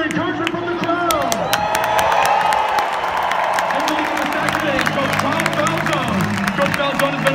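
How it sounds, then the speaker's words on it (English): Stadium crowd at West Point's Michie Stadium cheering parachute jumpers as they come in: a roaring, steady wash of cheers, whoops and clapping, with people talking over it. "The Jumpers and Academy can definitely hear encouragement from the crowd."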